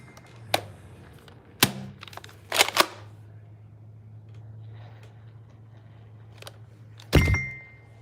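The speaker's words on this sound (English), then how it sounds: "I'm able to keep these flies in check. Yeah, my salt gun." A salt gun fired at flies gives a few sharp, isolated snapping pops at irregular intervals, close and moderately loud, set against a low, steady background hum with no voices.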